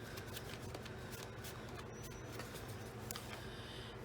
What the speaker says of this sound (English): And then we can fold it up.